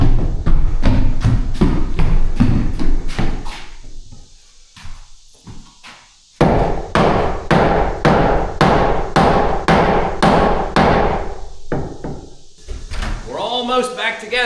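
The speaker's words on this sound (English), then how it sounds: "We'll need the nail gun first." Pneumatic nail gun firing nails into the wooden framing of a tiny house, a steady run of loud, sharp, close bangs at a quick rhythm, pausing briefly midway before resuming, ending with faint voices.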